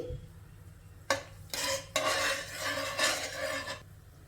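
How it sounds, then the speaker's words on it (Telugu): Whole cardamom pods, cloves and a piece of cinnamon dropped into hot oil for pulao, crackling in broad bursts with a few sharp onsets and a steady hiss, close and moderately loud, with no talking. "ఇప్పుడు నూనె వేడెక్కింది ముందుగా ఇందులో ఒక రెండు ఇలాచీలు అలాగే ఒక మూడు లవంగాలు కొద్దిగా దాల్చిన చెక్క వేసుకోవాలి"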